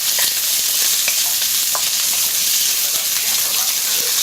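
Lard browning slowly in a wok over a small fire, a dense, steady crackling sizzle that stays even and fairly loud throughout, with no voices.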